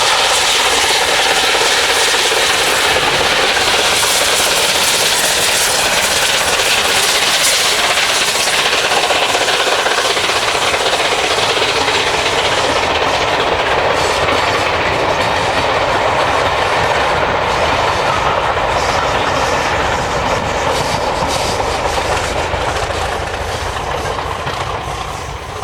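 BR Standard Class 8 steam locomotive 71000 Duke of Gloucester hauling a mainline rail tour past Poole, a loud sustained roar of train and carriages with wheel clatter, fading slightly toward the end.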